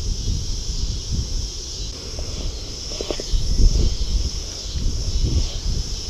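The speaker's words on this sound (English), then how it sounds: "Getting real windy, like a storm's coming in." Gusty wind buffets the microphone in low rumbling surges, rising and falling without a break, with faint rustling in the background.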